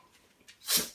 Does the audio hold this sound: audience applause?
no